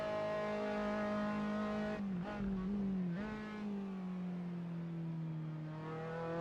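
RSR Formula 3 race car in Assetto Corsa at Silverstone, its engine droning steadily at high revs, with brief dips and rises in pitch during gear changes and cornering, loud and continuous throughout.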